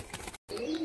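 A pair of Abluk Dobaj Madras pigeons, one female and one male, kept in a cage, give soft cooing calls up close. A brief dead gap falls in the middle.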